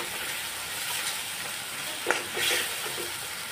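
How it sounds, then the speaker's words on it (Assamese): Curry spice masala fries in a pan with a continuous close hiss and sizzle, plus a brief stir and scrape near the end. "মছলাখিনি ধুনীয়াকৈ ভাজি ল'লোঁ"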